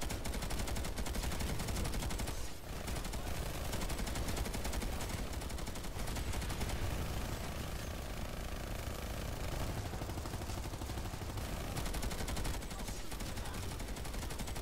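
LMG machine gun fire in Planetside 2 on PS4, relentless rapid bursts mixed with other weapons and battle noise, loud and continuous for the whole stretch with no talking.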